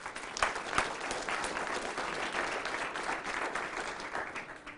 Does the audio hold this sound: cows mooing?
no